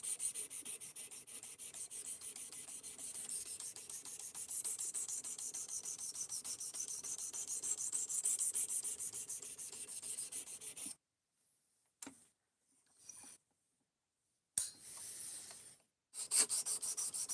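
A knife blade is ground against a sharpening stone or abrasive to remove a lot of metal, giving a continuous hissing rasp that runs steadily, then breaks into short bursts separated by silent pauses.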